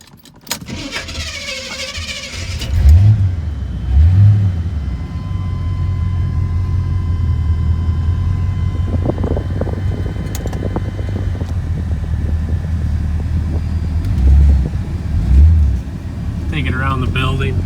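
A 1981 Chevrolet Corvette barn find rumbles as it drives, its engine running steadily with a couple of revving surges, while people talk nearby.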